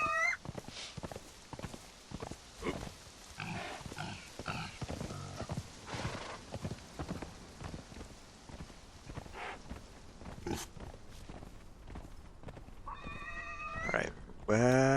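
A horse gallops and neighs in the video game Conan Exiles: busy, rhythmic hoofbeats run throughout, and shrill whinnies break out near the end, fairly close and moderately loud.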